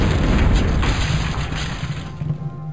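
Cannon fire in the Total Annihilation: Kingdoms game, a loud booming blast that rolls off into crackling rumble and decays over a few seconds.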